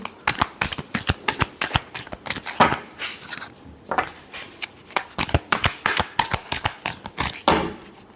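Tarot cards shuffled in rapid bursts of crisp riffling flutters, close and fairly loud, with brief pauses between rounds and no talking.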